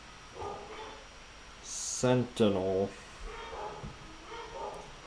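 Dogs bark in a short pair of sharp, loud barks in the middle, between quieter stretches of someone talking nearby.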